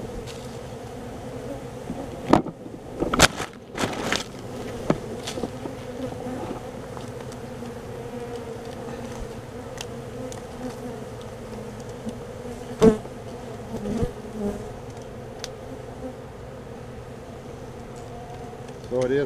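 Honey bees buzzing around a hive built in a bird house, a steady droning swarm hum close by, with a few knocks and clatters from handling the hive.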